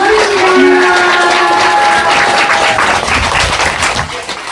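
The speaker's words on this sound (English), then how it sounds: "Let us give a round of applause to God." A crowd applauds steadily, dense clapping filling the whole stretch with a few tonal sounds drifting through at the start.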